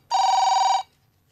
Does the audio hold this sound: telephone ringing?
yes